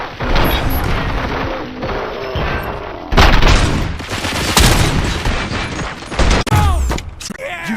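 Gunfire in the video game RoboCop: Rogue City, loud close volleys of heavy shots and booming impacts with crashing debris, sustained and dense, with brief pauses and shifts between bursts.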